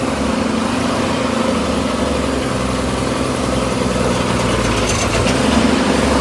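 A state transport bus engine idles and rumbles steadily throughout, a loud, continuous low drone with a faint rattle, no voices present.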